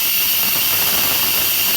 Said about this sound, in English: When that steam drops, that's when the steam pressure that's depleted.